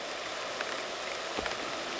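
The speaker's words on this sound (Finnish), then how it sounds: "Nyt alkaa sataa." Rain begins to fall, a continuous soft hiss of drops on surfaces with a few louder close taps, heard alone without talk.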